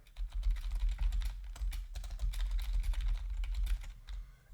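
Fast, steady clatter of keys on a computer keyboard, close and continuous for several seconds with no talking.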